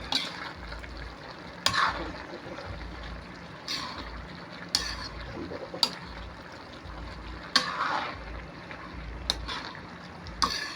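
Sautéed cabbage and mixed vegetables being stirred in a pan, with soft, intermittent scraping strokes at irregular intervals over a quiet, low sizzle, close by and fairly gentle.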